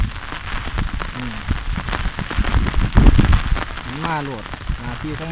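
Tropical-storm rain falls steadily on flooded rice paddies during transplanting, a dense patter under people talking in a Thai dialect close by.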